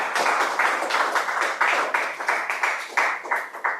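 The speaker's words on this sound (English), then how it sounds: "So really a big round of applause to everyone." Clapping from a small group at a meeting, heard as a series of separate, fairly regular claps at close range rather than a dense crowd roar, with no talk over it.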